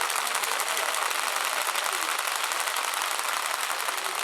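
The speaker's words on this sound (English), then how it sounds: "you can clap for that" An audience at a storytelling keynote bursts into sustained, even applause, a dense crackle of many hands clapping at steady loudness throughout with no talking over it.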